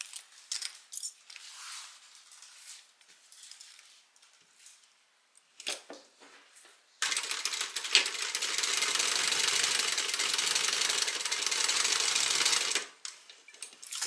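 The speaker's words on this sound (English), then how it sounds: "we're going to top stitch right across the top here" A sewing machine topstitching across leather and its lining, a few short stitching bursts, then a steady close whir for about six seconds before stopping.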